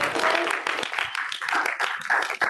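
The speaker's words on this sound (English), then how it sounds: "Round of applause for Nicholas." A classroom audience applauds a student named Nicholas, with dense, steady clapping over a couple of seconds and some voices mixed in.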